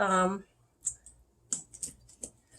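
A knife cuts through a large avocado on a board, giving a few faint, crisp clicks and taps after a short stretch of speech.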